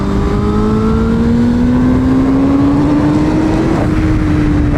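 A 2021 Honda Fireblade CBR1000RR-R SP sport motorcycle engine revs loudly and steadily upward in pitch, a continuous high-rpm whine with a brief dip near the end.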